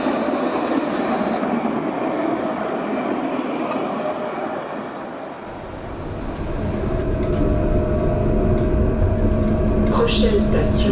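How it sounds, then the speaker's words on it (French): Tram on Mulhouse line L2 passing close by outdoors, a steady loud rolling rumble that swells as it goes past, with faint high squeal near the end. "Séquence vidéo du passage du tram de l'extérieur."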